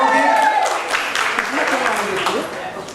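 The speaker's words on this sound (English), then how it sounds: "Come on, round of applause, please, Sumukhi." An audience applauds at a comedy set during a book launch event, with scattered clapping running under a speaker's voice for a few seconds.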